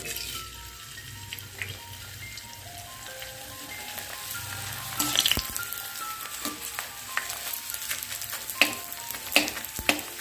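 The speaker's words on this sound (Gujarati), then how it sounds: "હવે આપણે આ ગુંદરને તળી લેશું" Steady sizzling of edible gum frying in hot ghee, with crackles and pops growing busier and louder toward the end; no one speaks.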